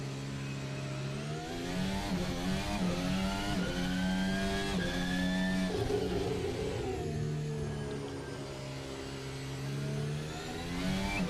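An F1 race car engine in a racing video game, close and loud as it climbs through rising, whining revs with quick gear shifts, then settles before building again.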